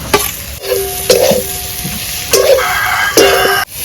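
A spoon stirs cumin, ground coriander and chili powder frying in a hot pan for a taro-stolon and prawn curry, with about four distinct scraping strokes over a steady sizzle, close and clear.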